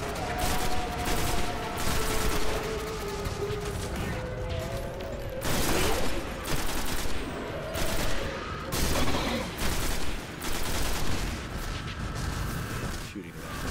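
Rapid bursts of gunfire and repeated shots crackle through a firefight in the video game Destiny on Mars, loud and near with explosions mixed in, while someone talks over the action.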